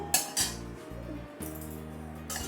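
Utensil clinks and scrapes in a pan as mustard seeds are stirred in hot oil with a pinch of turmeric, a few sharp metallic taps over a steady low sizzle, close and fairly quiet.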